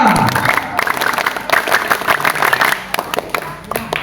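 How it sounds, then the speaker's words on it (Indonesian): A crowd at an Indonesian Pramuka scout gathering during a religious lecture claps in unison, fast rhythmic patterned clapping close by with some voices mixed in. "Untuk itu saya minta 1 kali tepuk Pramuka."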